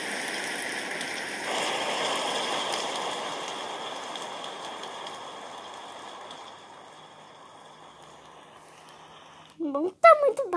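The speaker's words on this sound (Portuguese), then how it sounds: "Tá ouvindo barulho de chuva?" Steady rain in a pop it fidget toys video game, a broad even hiss that slowly softens, followed at the end by a short burst of speech.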